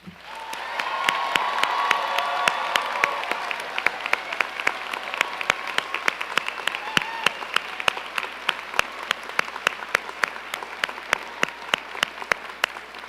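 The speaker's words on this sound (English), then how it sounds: "I'm going to ask you to join me in giving the graduates a roaring round of applause." Crowd applause and cheering for graduates at an undergraduate spring commencement ceremony, a loud, sustained roar of clapping with scattered sharp individual claps standing out. It continues for the whole stretch.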